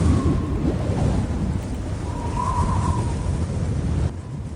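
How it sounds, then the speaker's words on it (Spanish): Stormy sea with gale wind and waves battering a small boat, a dense, rumbling roar of wind and water that swells and eases, with a faint whistling tone drifting through. "En alta mar se desató una tormenta y el vendaval golpeaba contra aquella pobre embarcación y las olas se movían con ferocidad."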